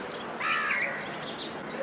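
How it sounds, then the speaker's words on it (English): Crow cawing in a natural outdoor setting, a couple of harsh raspy calls rising over faint background hiss, fairly near and alone with no talk. "This is crow."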